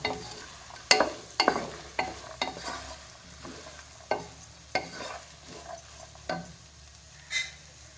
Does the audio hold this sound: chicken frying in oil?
yes